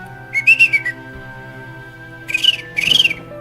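A person whistles to imitate a little bird's chirp, producing a short warbling trill, a pause, then two more quick chirping bursts, close and fairly loud over a faint hum.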